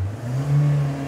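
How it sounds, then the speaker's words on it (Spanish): A car engine revs up, its steady hum rising slightly in pitch as it accelerates, heard close and alone. "Miren el carro, escuchen el carro."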